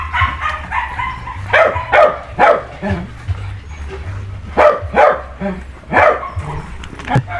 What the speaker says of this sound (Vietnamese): con khách nó gửi nó lạ nên sủa quá